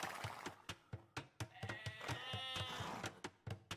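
A sheep bleats once in Age of Empires II, a wavering bleat heard among quick repeated clicks and taps.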